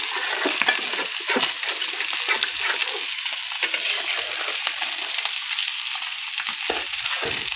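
Pangas fish and fresh purslane sautéing together in a pan, a steady loud sizzle with scraping stir strokes throughout, no voices.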